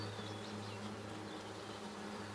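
Mountain Grey Caucasian honeybees hum steadily around an open hive frame during an inspection, a close, continuous buzzing drone.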